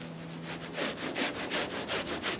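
A paint roller rolls back and forth over a wooden wing strut of a Sopwith Camel replica with a rhythmic, prickly rasping, about eight close strokes in steady succession, no voices.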